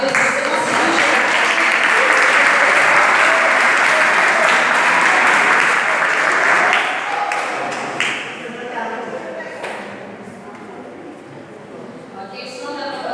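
Applause from a church congregation, loud and dense for several seconds before tapering off, with voices talking as it fades.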